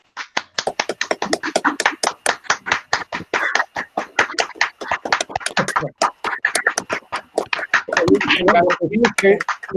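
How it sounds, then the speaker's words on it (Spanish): Several participants on an online video call applaud a conference speaker, giving a rapid run of distinct, close claps that crowd together into a burst near the end. "Es la primera vez que en línea me aplauden, eso no me gusta."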